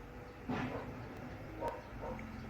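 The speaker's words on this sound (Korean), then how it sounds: "들리시죠? 짖는 소리." A dog barks outdoors, apparently at an excavator on a nearby construction site: three or four short, distant barks spread over a few seconds against a quiet background.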